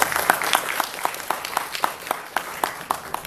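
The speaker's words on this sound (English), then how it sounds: "Please have a round of applause for him." An audience at an AI meetup in Karachi gives a short round of applause: scattered, loose claps from a modest crowd, fairly close and moderately loud, with irregular individual hits rather than a thick roar.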